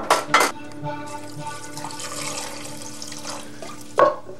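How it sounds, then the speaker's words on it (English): Orange juice pours into a pot of cauliflower soup in a home kitchen, a steady liquid splashing and trickling with a sharper splash at the start and another near the end, close and fairly loud with no talking. "Turn it into a soup with orange juice."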